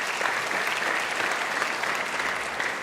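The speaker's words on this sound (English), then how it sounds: "give yourself a big round of applause" Students at a senior awards ceremony give a round of applause, a brief, dense burst of clapping from a crowd that stays steady for about three seconds.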